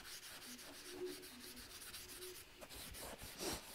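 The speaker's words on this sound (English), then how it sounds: "The key thing is the amount of rubbing that you end up doing." Rub n Buff wax being rubbed by hand onto an R2D2 droid dome, a steady close-up scrubbing friction with faint squeaks, continuous and quiet, no voices.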